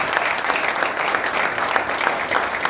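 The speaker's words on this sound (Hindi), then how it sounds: "जोरदार ताली परमेश्वर के लिए।" Congregation at a church worship service clapping loudly and steadily for God, a dense continuous wash of applause with no pauses.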